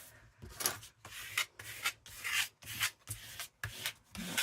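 A hand rubs paper flat on a journal page in repeated soft strokes, about two per second, each a brief, quiet, dry swish heard up close with no talking.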